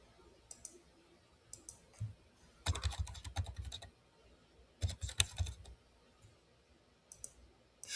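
Computer keyboard keys tapped in two dense bursts of rapid typing with a few scattered clicks between them, close and fairly quiet, with no talking.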